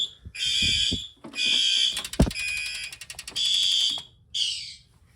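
A loud, harsh electronic fire alarm horn blares in repeated bursts with short gaps, punctuated by a few clicks and thumps.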